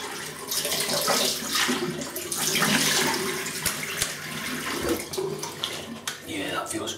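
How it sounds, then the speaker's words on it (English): Running tap water splashes steadily as a shaving brush is rinsed, with a close, continuous gush and a few clunks near the end. "Let me have a quick rinse."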